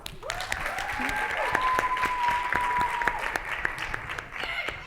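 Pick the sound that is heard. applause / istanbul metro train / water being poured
applause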